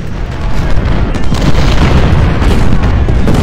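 Artillery fire in the Civil War strategy game Ultimate General Civil War at Malvern Hill, a loud continuous rumble of overlapping cannon booms and bursts, dense and unbroken, with no talking.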